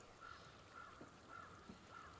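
Crows caw faintly in the distance in the video game Hellblade: Senua's Sacrifice, four soft, evenly spaced calls over a steady ambient hiss.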